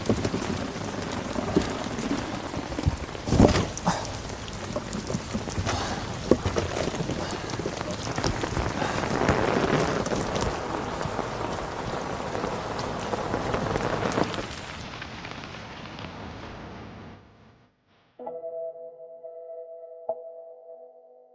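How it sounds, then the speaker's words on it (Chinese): Steady rain falls at night, a dense, even hiss of drops on surfaces that holds for most of the stretch, then drops away abruptly, leaving a quiet low hum to close. "下雨了天凉"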